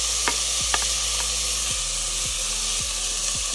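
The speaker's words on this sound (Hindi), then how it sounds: "सबसे पहले हम डालेंगे इसमें बीन" Beans, carrots and cabbage for a high-protein khichdi sizzle in a pan, with a steady bright hiss and a few spoon scrapes and knocks spaced through it.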